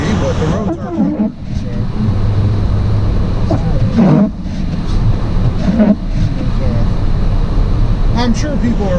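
A Toyota Tundra pickup in four-wheel drive rolls slowly over a sleet-covered road, with a steady loud engine and tire drone heard from inside the cab. People talk over the noise.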